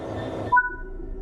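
Train cars couple in a train simulator game: a short metallic clunk with a brief ringing tone after a low rumble, then quiet hum, all over about a second.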